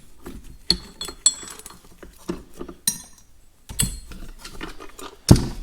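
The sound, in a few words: removing two bolts from tractor extension housing with ratchet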